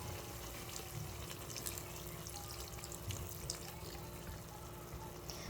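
Liquid trickles and drips steadily into a pot of pork dinuguan being seasoned with salt and vinegar, a soft continuous pour close by with no one speaking.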